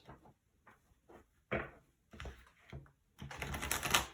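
Oracle cards being shuffled by hand give a string of short papery riffles and snaps in uneven bursts, ending in a longer flurry of card shuffling nearby, with no talk.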